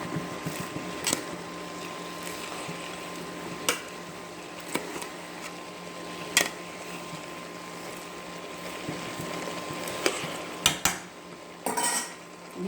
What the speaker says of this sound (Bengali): আর আমি এখন বাঁধাকপিটাকে ভালোভাবে নেড়েচেড়ে দিব